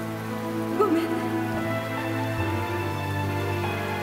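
Cold rain falls steadily in a Japanese Tales of Symphonia drama scene, a constant close patter of drops on surfaces with a low musical drone beneath and no speech.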